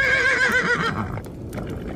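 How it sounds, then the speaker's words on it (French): Frightened horses whinnying loudly and close by, a long wavering neigh followed by a shorter cry, with hoof clip-clop and stamping underneath. "on dirait que les chevaux ont peur"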